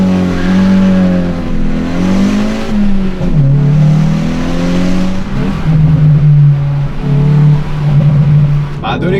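A Hyundai i20N with its 204-horsepower engine revs hard while driving, rising and falling through the gears in a loud, continuous, close-up drone with a few brief dips between pulls.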